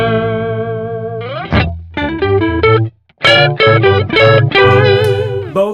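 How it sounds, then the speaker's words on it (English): Electric guitar through a BOSS PS-3 pitch shifter in dual pitch shifter mode, a loud, close sequence of layered, harmonised notes and chords with a short silence midway, no voices. "the last mode out in this demo is mode number 9, which is dual pitch shifter"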